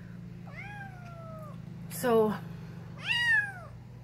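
A displeased calico kitten caught in a live trap gives three loud, close meows. The first is drawn out, the second is sharp and strained, and the third rises and falls. A voice briefly speaks near the start.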